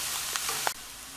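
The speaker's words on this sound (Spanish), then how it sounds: "Y vamos a seguirlo moviendo para que se aciclone perfectamente la cebolla con la hoja de laurel." Onion and bay leaf frying in a pan, a soft continuous sizzle with a couple of light stirring clicks before it drops away near the end.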